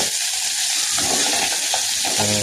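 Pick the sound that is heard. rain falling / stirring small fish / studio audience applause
stirring small fish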